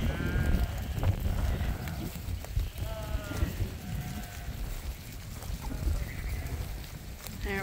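A flock of sheep bleats repeatedly as it is herded toward a barn on a farm, several nearby calls rising over shuffling hooves and outdoor noise, with a person talking.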